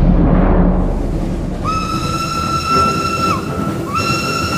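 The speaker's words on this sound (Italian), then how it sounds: "Mentre il paesaggio scorre al di là del finestrino del treno" A train runs with a continuous rumble of wagons on the rails, joined partway through by a long, loud whistle blast that drops in pitch and then sounds again, used as an audiobook sound effect.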